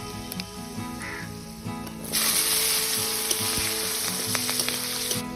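Bengali five-spice seeds (panch phoron) crackle and sizzle in hot oil after asafoetida, a broad steady frying hiss that jumps louder when they go in, with small pops throughout.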